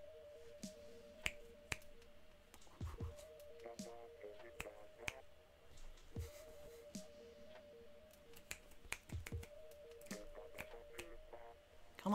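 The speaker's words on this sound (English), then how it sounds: "Come on, game, I'm snapping my fingers." Finger snapping by a player waiting on Splatoon 2, a scattered series of sharp dry clicks at irregular intervals over faint game music, close and fairly quiet.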